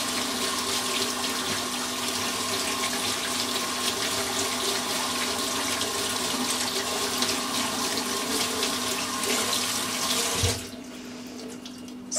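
A makeup brush is rinsed under a running bathroom tap, a loud steady rush of water close by that cuts off sharply near the end, with no voices.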